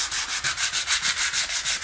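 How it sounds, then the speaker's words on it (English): Sandpaper rubbed lightly by hand across a wooden front door, a steady rhythmic scratchy rasp of quick back-and-forth strokes, close and loud with no talk. "All the sanding is done."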